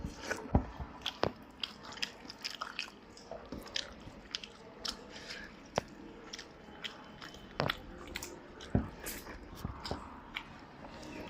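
Someone eats a home meal of rice close to the mic, with wet, sticky chewing and biting sounds. Irregular louder crunchy clicks come through at a steady eating pace, with no talk.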